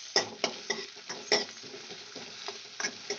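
Onions frying in hot oil, soft sizzling under a series of scraping and stirring strokes of a spoon against the pan, roughly a dozen irregular knocks, close and fairly quiet.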